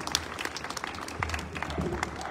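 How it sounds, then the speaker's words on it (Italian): A crowd in an outdoor town square applauds at a political rally, a steady, moderately distant wash of clapping with murmuring voices underneath. "un applauso"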